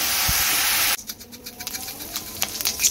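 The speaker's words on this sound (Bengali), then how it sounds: "তো এখানে আগে আস্ত এটাকে ভালো করে একটু ভেজে নেবো" A whole onion, ginger and garlic frying in a pan as mutton is being cooked, heard as a loud steady hiss that cuts off abruptly about a second in, followed by quieter crackling and spattering, with no talking.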